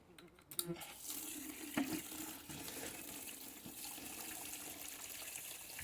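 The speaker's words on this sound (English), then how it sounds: "Refresh the water." A kitchen tap runs to refresh the water while carp fillets are processed, a faint steady gush with a few clatters and knocks near the start.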